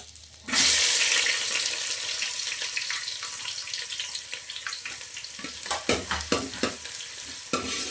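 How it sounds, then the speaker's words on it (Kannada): Sliced onion with cinnamon, cloves and cardamom frying in hot oil, a steady loud sizzle that starts abruptly, with sharper crackles and stirring clatter growing toward the end; no talking. "ಇದೊಂದು ಎರಡರಿಂದ ಮೂರು ನಿಮಿಷ ಚೆನ್ನಾಗಿ ಫ್ರೈ ಮಾಡ್ಕೋಬೇಕು"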